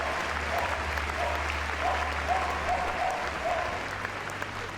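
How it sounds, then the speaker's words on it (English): Arena audience at a Crufts agility competition giving a round of applause, dense sustained clapping from a big crowd, steady and fairly loud, with a low hum and faint music beneath. "let's give them all a big round of applause"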